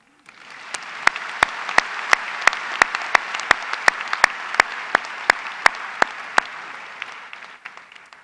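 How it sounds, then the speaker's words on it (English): A large audience at a business school undergraduate commencement claps in a broad steady wash, with sharp regular percussive knocks punctuating it roughly every third of a second before the applause tapers off. "Now you may clap."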